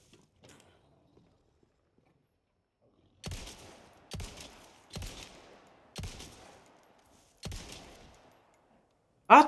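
Five distinct gunshots ring out one at a time in the video game Resident Evil 4, each with a short echoing tail, spaced about a second apart after a quiet stretch, then a louder final blast.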